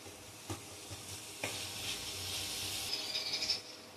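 Garlic and onion sauté in a pan for a rohu fish head moong dal, a soft steady sizzle with a few scraping stirs, rising into a brighter crackling hiss near the end.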